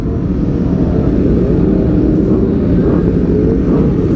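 Superbikes such as a ZX10R, BMW S1000RR, Panigale V4S Superleggera and Yamaha R1M rev hard toward the limiter in a crowded Jakarta gathering, a loud, continuous roar of several engines with no talk over it.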